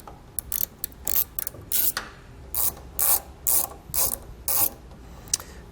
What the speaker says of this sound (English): So we need to go ahead and take a T15 Torx bit and remove both of those.